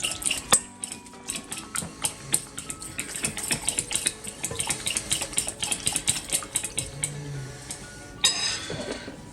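A fork clinks and scrapes against a bowl while mixing stuffing of garlic and parsley, with quick, irregular metallic taps close by and a busier scraping burst near the end.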